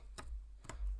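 Two sharp snips in about a second as scissors cut through a sticky sheet, close and crisp against a quiet background.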